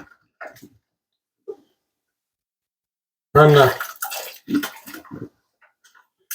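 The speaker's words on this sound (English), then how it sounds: "Then we'll wash the jars." Glass canning jars are washed in water, with short splashing and sloshing bursts separated by quiet gaps and a voice briefly heard.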